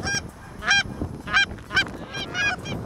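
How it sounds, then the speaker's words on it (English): Canada geese in a flock, arriving over a hunting field, give loud repeated honks in a loose irregular series, several calls overlapping and close overhead. "this group of honkers comes in"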